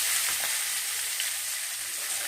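Cumin, cinnamon, cloves and curry leaves sizzle steadily in hot oil for a potato and peas gravy, a close, continuous crackling fry with no talk.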